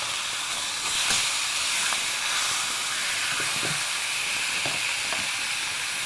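Meat frying skin-side down in a pan, with a continuous loud close sizzle and hiss and occasional faint pops and clicks. No one talks.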